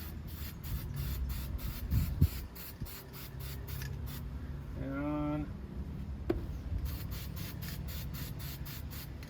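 A spray adhesive can hisses in a steady burst for a few seconds amid scattered handling noises and a faint word spoken nearby.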